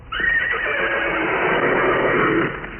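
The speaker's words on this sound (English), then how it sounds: "It's a horse's laugh, man." A horse whinny sound effect played over the air on a Los Angeles FM rock radio broadcast, one long, loud, wavering neigh that rises and then trails off, alone with no talk.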